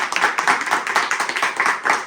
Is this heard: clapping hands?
yes